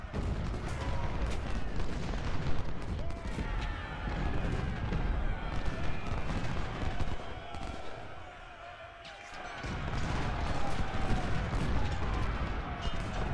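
Musket volley fire in the video game Ultimate General Civil War: a dense, continuous crackle of many overlapping shots and booms, loud and sustained, easing briefly near the middle before resuming at full intensity.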